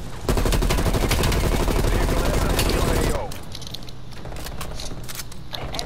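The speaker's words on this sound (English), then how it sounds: "I wake up to a gun trying to shoot me into oblivion." Rapid automatic gunfire rattles loudly and nonstop in a video game for about three seconds, then cuts to quieter game ambience with scattered distant shots.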